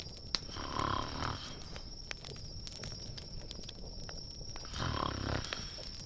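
A woman snoring in a fantasy story scene, two slow breathy snores with a quiet rasping gap between them over a faint steady hum.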